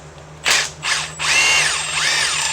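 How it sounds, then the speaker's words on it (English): An impact gun working a bolt on the rack and pinion of a Chevy Aveo: two short rattling bursts, then a longer hammering run with a rising and falling whine, close and loud. "get my impact gun, put the socket that fits"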